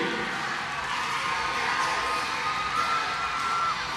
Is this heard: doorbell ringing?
no